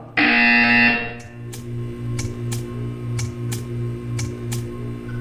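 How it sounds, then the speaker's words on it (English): A loud harsh buzzer in the video game Portal 2 blares for about a second, then a steady electronic hum continues with regular ticking clicks. "You will hear a buzzer. When you hear the buzzer, stare at the art."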